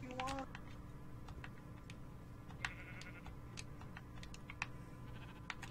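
A single short sheep bleat near the start, followed by scattered faint clicks and ticks over a quiet outdoor background.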